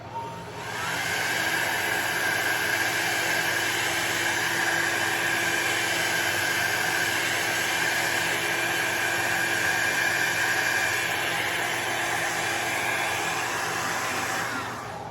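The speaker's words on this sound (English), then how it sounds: "Turned my dryer on before I even picked it up." A hair dryer blows continuously and loudly at close range over alcohol ink artwork, a steady whooshing roar with a whining motor tone and no voices.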